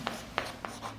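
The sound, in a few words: writing a definition on a board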